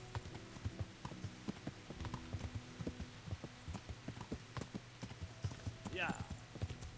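Horse hooves clip-clop in a steady, quick rhythm within a video game, crisp and close under a low musical drone, with a short whinny-like rising sound near the end.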